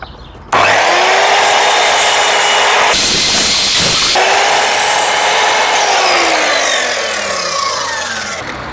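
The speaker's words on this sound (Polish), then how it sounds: "I teraz muszę wszystkie wyciąć odpowiednią długość." A power saw cuts grooved wooden battens to length for a DIY bathroom door. The loud, steady whine starts abruptly, roughens during the cut, then eases and slowly winds down at the end.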